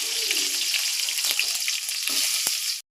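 Onions frying in oil with mustard seeds give a steady, close hissing sizzle that runs evenly before cutting off abruptly at the end.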